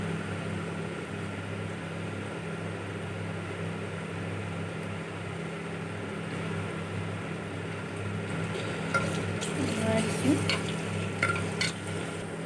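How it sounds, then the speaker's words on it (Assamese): Onions frying in a pan with ginger garlic paste for a goat meat curry, a steady low sizzle with scraping spoon stirs and pan clatter picking up toward the end. "এয়া পিয়াজখিনি ভালদৰে ভজা হৈ গৈছে"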